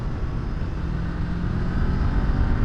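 A Kawasaki Ninja 400 KRT sport motorcycle engine while riding, giving a steady, smooth drone mixed with wind rush that rises slightly toward the end, with no speech.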